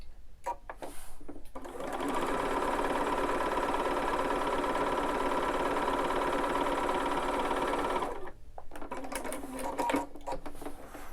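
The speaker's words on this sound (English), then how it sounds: "we're going to flip it around and stitch on the other side in the same manner." A sewing machine stitching a flying geese quilt block, running in a steady fast whir for about six seconds, with brief starts and stops before and after.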